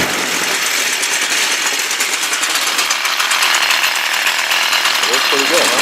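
A Stihl weed eater two-stroke engine fitted with a new aftermarket carburetor, its combustion chamber carboned over, runs after priming with a loud, continuous high-revving buzz that stays steady for the whole stretch, close to the listener.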